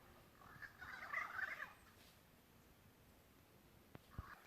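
Large birds call among coconut trees, a faint burst of gobbling cries around the first second and a half, followed by quiet rustling and a couple of soft clicks.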